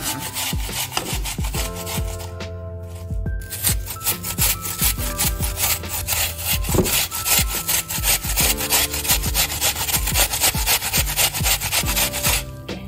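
A washed apple rubbed against a grater in quick repeated strokes, a close rhythmic rasping that continues steadily with a brief pause near the start and no speech.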